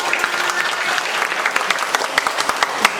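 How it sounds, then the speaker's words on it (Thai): A crowd claps together in a short burst of applause for a monk at a massage training event, dense and steady with sharp individual claps standing out. "ขอเสียงปรบมือให้พระอาจารย์นะ"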